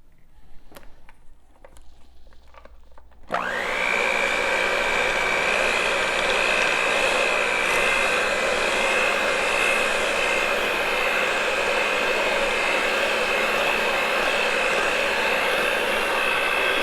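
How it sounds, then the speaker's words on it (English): An electric hand mixer blends vanilla into a creamy filling in a bowl for a Butterfinger pie, starting after a few seconds of quiet with steady, loud, unbroken whirring that holds to the end. "now we're going to add in the vanilla, and we're going to mix that"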